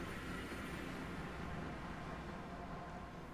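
Steady rumbling train noise fills a video game dimension as it loads, a dense continuous roar with no speech over it.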